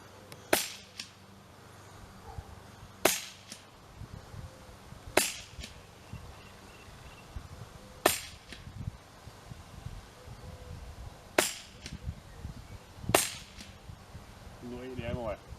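Six sharp gunshots from match ammunition at an outdoor shooting range crack out at irregular intervals of a few seconds, each a loud near report over a quiet background with faint rustling.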